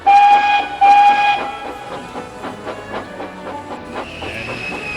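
Skarloey, a small steam engine, comes in tilted to one side, with two loud whistle-like tones up front and then a steady run of clanking, rattling beats and a hiss that carry on to the end.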